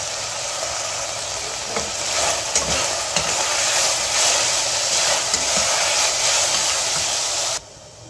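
Loud, steady sizzling of finely chopped onion sautéing in a hot pan, with occasional stirring scrapes, close up, then abruptly quieter near the end.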